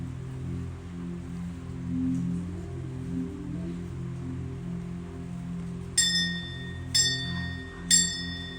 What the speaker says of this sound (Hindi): ये तुम्हारे मंदिर में घंटियां कहाँ कहाँ से आई।